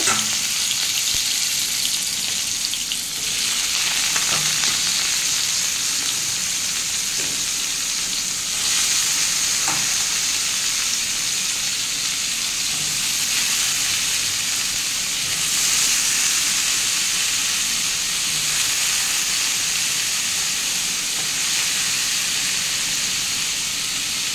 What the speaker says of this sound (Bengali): দিয়ে আমি থোড়টা একটু ভালো করে একটু ভেজে নেব